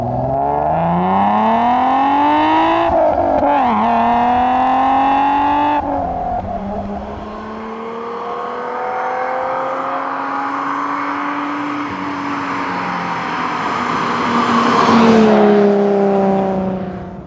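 An Alfa Romeo SZ's Busso V6 engine revs hard with rising and falling pitch, a loud, raspy six-cylinder note climbing through the throttle and easing off, then surging again near the end.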